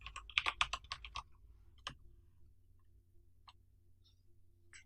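Typing on a computer keyboard while working through a JavaScript course: a quick burst of sharp, close key clicks, then a few scattered single taps spaced out over several seconds, with no voices.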